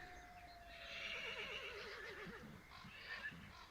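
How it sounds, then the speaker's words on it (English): A horse whinnies loudly in a forest, a wavering neigh rising through the middle, with faint hoofbeats of a trot drawing closer underneath as a sound effect. "you start to hear what sounds like a horse trotting closer"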